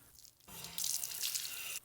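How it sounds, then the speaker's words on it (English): Tap water runs into a sink as a clarinet mouthpiece is washed with soap: a quiet start, then a steady hissing stream with a few drips, alone and close. "Clean with soap and water."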